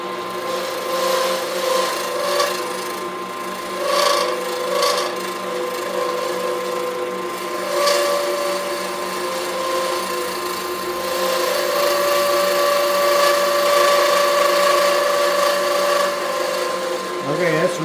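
A wood lathe spins a pen blank while a chisel cuts into it, giving a steady motor hum with scraping, rasping bursts that rise and fall for the whole stretch, close and fairly loud.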